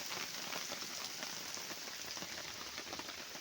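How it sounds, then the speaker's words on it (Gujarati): Heavy rain pours down on farm fields, heard from a tractor. The downpour is a dense, steady hiss with no break, fairly faint and even, and no voices. "ખેતરોમાં પાણી ભરાઈ જાય એવો વરસાદ આવ્યો આજે તો."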